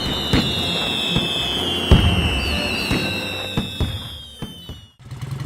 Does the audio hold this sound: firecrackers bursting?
yes